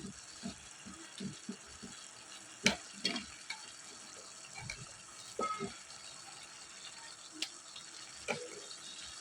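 Ginger garlic paste stirred into a simmering prawn curry, with scattered spoon knocks and scrapes against the pot over a low bubbling, sizzling bed.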